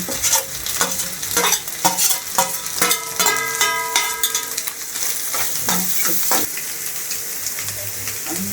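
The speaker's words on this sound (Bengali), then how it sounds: "এখন এটার মধ্যে সব সবজি দিব। চিংড়ি মাছ, বরবটি, গাজর, আলু।" Shrimp, green beans, carrot and potato frying in a pan for a noodle dish, sizzling loudly and continuously with repeated scrapes and clanks of stirring up close.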